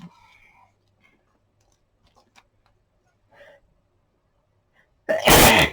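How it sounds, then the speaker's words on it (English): A single loud, sudden sneeze bursts out close to the microphone at the end, following a quiet stretch of faint rustling, ticking and soft breathing. "I don't need to sneeze until I put the camera on."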